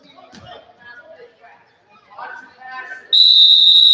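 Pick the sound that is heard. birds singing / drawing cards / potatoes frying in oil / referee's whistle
referee's whistle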